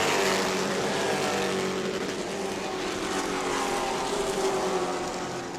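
Pro Truck race trucks thunder past at the New Smyrna speedway, a loud, unbroken engine roar that holds steady for the whole stretch with no voices over it.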